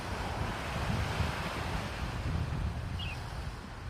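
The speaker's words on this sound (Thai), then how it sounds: "พามาดูทะเลนะคะวันนี้ทุกคน เป็นยังไงคะ ทะเลวันนี้" Sea waves washing onto a beach, a soft, distant, continuous surf wash mixed with light wind, faint and steady with no voices.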